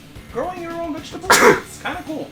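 A single sharp sneeze bursts out amid casual conversation during a video game session, loud and close, with people talking before and after it.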